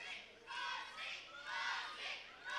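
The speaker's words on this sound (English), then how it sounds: "The Secunda crowd here getting behind Nkosi." Crowd at a Secunda wrestling bout between Francois Meyer and Nkosi Ndebele, cheering and shouting in swelling waves from a distance, fairly faint.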